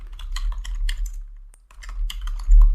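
Quick bursts of clicky keystrokes on a computer keyboard as the ping command is typed, with a brief pause in the middle before a final flurry of keys.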